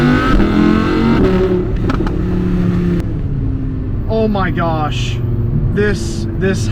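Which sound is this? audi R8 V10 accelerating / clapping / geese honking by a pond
audi R8 V10 accelerating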